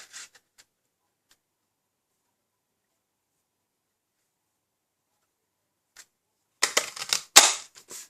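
A daisy paper punch cutting flowers from card, a quick cluster of sharp snapping clicks near the end after long silence, with a few faint ticks at the start.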